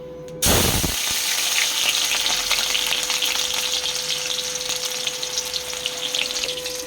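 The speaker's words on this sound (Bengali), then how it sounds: "সবার ফার্স্টে আমি দেবো এই পেঁয়াজ কুচি।" Chopped onion hits hot oil in a pan for a tilapia curry, bursting into a sudden loud sizzle that then settles into a steady, crackling fry, with a faint constant hum underneath and no talking.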